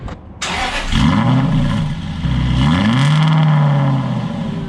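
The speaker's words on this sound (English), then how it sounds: "let's go ahead and start the car up" An Aston Martin V8 Vantage engine cranks and fires up close by, settling into a loud, deep idle with a couple of rising revs.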